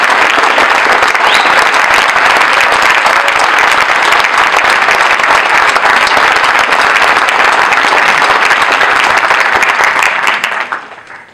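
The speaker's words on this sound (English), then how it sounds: "So let's give them a round of applause." Loud, dense applause from a debate audience fills the room continuously for about ten seconds, then fades out at the end.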